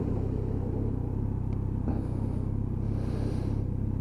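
Kawasaki GTR1400 touring motorcycle on the road, a steady low engine rumble with wind roar throughout, holding an even drone with no clear revving and no voices.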